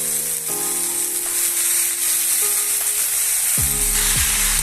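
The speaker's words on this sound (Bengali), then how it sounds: "এবার শাকটা দিয়ে দিচ্ছি।" Khosla greens dropped into a pan of sizzling fried spices: a steady bright hiss of hot oil with faint tonal hums, then a sudden louder sizzle burst near the end as the leaves hit the pan.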